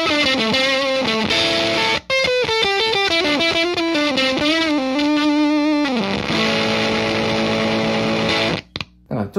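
Electric guitar played through a Wilson Effects Not the Notrite silicon fuzz pedal with a very strong gate, giving thick, synthetic distorted notes and lines that cut off abruptly into near-silence when playing stops.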